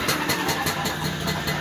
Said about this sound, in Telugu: ఇంజన్ సౌండ్ కూడా వినండి మెయిన్ ఇంపార్టెంట్ ఇంజన్ సౌండ్ అనేది